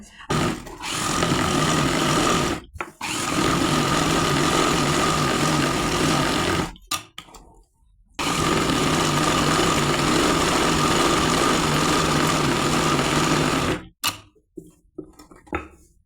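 A sewing machine stitches an undershirt in loud, steady whirring runs lasting several seconds each, broken by short pauses between seams.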